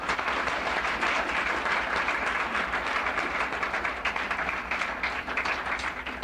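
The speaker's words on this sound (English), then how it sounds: "Please give them all a big round of applause." Audience applause for scholars in a conference room, a dense, steady wash of clapping that stays even in level from start to finish.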